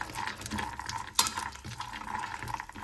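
Raw peanuts (groundnuts) being dry-roasted and stirred in a pan for a groundnut chutney, a steady close scraping and rustling with faint frying crackle and one sharp clink of the spoon against the pan, no talk.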